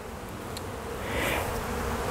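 Honeybees from a package hive buzz steadily during installation, a faint, close, continuous hum with the swarm's drone swelling slightly toward the end.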